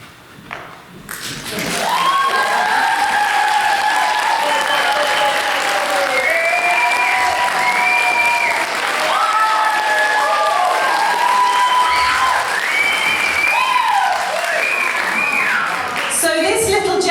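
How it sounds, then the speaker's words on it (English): An awards-ceremony crowd breaks into a long, loud round of applause for the admin team, dense clapping with a few thumps and scattered cheers, while voices speak over it throughout. "You need to give them a really big round of applause"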